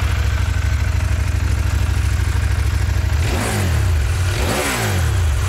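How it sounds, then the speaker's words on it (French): A CFMoto 800 motorcycle meeting Euro 5+ rules idles with a steady low rumble, then two rising revs each end in a swooping fall marked by crackling exhaust backfire pops. "Alors tu entends les petits retours de flamme."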